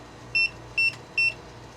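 A boat's door lock gives three short, evenly spaced electronic beeps, fairly close and clear over a low background hum.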